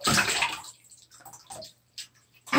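Water pours and splashes into a bathtub being filled for a slime bath, a loud rushing gush at first that stops and gives way to faint drips and small splashes, with no voices.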